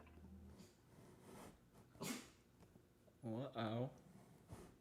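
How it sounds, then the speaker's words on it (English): Frank the dog lets out a couple of short, close vocal yelps in a quiet room, a pair of tight barks near the end with faint breathing and small noises around them. "Frank, stop. You're not barking at me."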